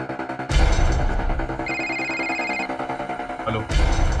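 A telephone rings in a Hindi TV crime drama police scene, giving a loud electronic tone with a short trill in the middle, framed by heavy dramatic background music and crashing hits.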